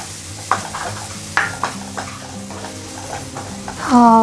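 Finely chopped red tomato frying in a pan with black masala for a cluster bean bhaji, a soft sizzle under clear spoon-and-pan scraping knocks, ending in a brief louder hiss.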